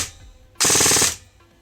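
An airsoft gun fitted with a Solink 35k brushless motor on a 7.4V battery fires a loud, close half-second burst of rapid rounds, the motor whirring between quiet pauses before and after.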